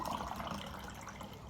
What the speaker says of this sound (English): add my water first. Add water.